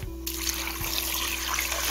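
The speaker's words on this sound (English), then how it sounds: "Pour some water in there." Water trickles and splashes steadily as it is poured into a pot of boiled eggs for an ice bath, heard close over a constant low hum.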